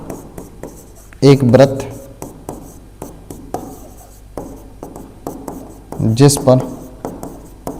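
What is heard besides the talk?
writing by hand during math solution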